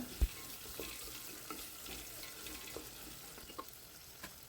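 Onions stirred and sautéed with ginger and garlic in a pan, a faint soft sizzle with an occasional quiet knock or scrape of the spoon; no speech.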